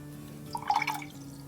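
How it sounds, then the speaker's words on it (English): A paintbrush rinsed in water outdoors during nature painting, giving a brief burst of soft splashing and dripping over a quiet background hum, with no talking. "Wipe your brush, rinse your brush, and then wipe it on something."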